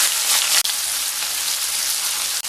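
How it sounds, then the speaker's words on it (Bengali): Sliced onions with black cumin seeds hiss and crackle steadily in hot oil for a Bengali fish curry, a dense close sizzle that runs without pause apart from two brief cutoffs, no talking. "পেঁয়াজগুলোকে হালকা ভেজে নেব।"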